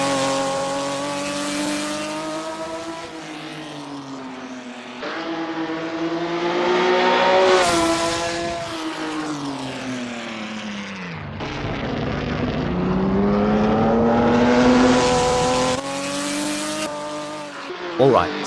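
A Ferrari 275 GTB race car in a racing game on a Paris circuit, its engine droning and climbing through gear changes, with tire squeal on corners and a voice talking over the noise.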